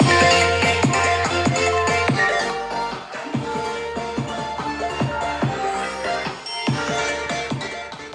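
A song plays loudly through a BUGANI M90 deep-bass Bluetooth speaker, with a thumping beat and heavy bass under full, continuous music.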